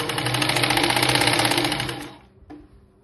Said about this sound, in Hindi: यहाँ मैं सिलाई आर्म होल की अच्छे से इस तरह से